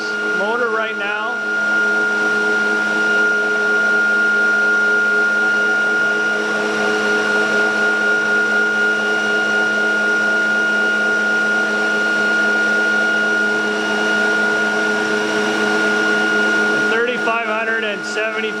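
A ReGenX motor integrated on an ebike running steadily, a continuous whining hum with stable tonal pitch throughout, with brief bursts of talk at the start and end.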